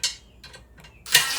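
A ratchet with a 5/16 deep socket tightens bolts on a VEVOR fishing cart, giving four short, close clicking bursts, the last one the loudest.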